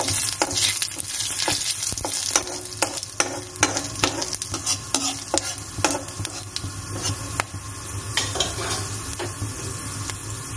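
Fennel seeds and dried red chillies fry in oil over a lowered flame, a steady sizzle broken by frequent crisp crackles and stirring scrapes, close up with no talking.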